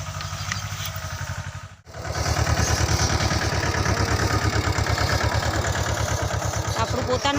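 A farm tractor engine runs steadily with a loud, even low-frequency chugging, a brief dropout near two seconds before the throbbing resumes close by, with faint clatter on top.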